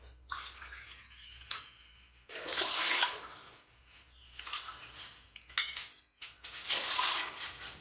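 Water is poured into a pan on a stove in several splashy bursts, separated by short pauses and light clinks of metal, for a coconut sugar sweet.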